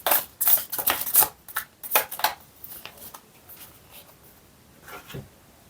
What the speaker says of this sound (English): I always recommend to watch the shuffling because that will help you to connect to the energy.